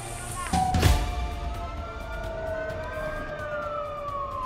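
A fire truck siren wails as the truck rushes to a nighttime warehouse fire in Gumaca, Quezon, its steady rising and falling tone sustained throughout, with a brief loud burst of street noise and traffic rumble early on.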